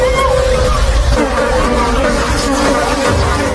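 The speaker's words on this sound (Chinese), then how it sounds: "紧接着他们又听到了大量苍蝇的声音" A swarm of flies buzzing in a film scene, a loud, dense, continuous drone with wavering whining tones layered over a low rumble, filling the whole stretch without a break.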